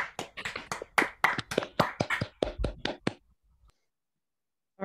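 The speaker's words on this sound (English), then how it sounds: "feel free to unmute yourselves and give our second speaker an applaud" Scattered hand claps from a few online meeting attendees, unmuted to applaud the second speaker, roughly a dozen sharp claps over about three seconds, then quiet.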